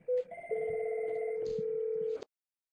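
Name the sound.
telephone ringing on a call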